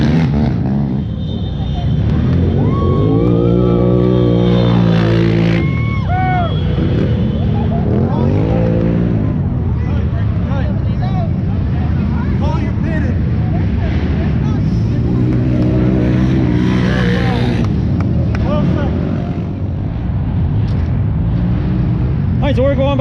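Off-road racing motorcycles at a GNCC race roar past nearby, engines rising and falling as they pass, while people talk loudly over the sound.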